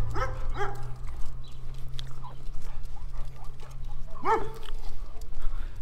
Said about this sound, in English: we have a stray dog barking at us